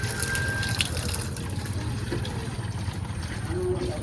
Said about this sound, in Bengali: ভিতরে জল দিতে হবে জল কি ভর্তি ভর্তি হ্যাঁ